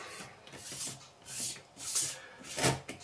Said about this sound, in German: können den jetzt hier einfach oben drauf schrauben